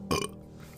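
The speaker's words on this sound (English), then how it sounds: "I felt another burp coming on." A single short, close burp, loud at its start and quickly fading into quiet room tone.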